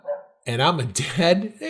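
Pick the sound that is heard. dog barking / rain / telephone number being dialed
dog barking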